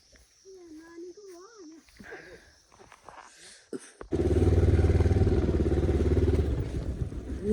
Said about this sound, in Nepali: अब यहाँबाट चाहिँ हामी बाइकमा जान्छौँ